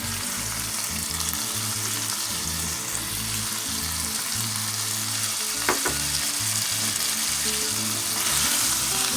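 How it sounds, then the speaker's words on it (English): Seasoned ground beef sizzles and fries in a pan for taco filling, a steady loud crackle with occasional scrapes of stirring and a brief clink near the middle. "we're going to cook our ground beef until it's all the way brown"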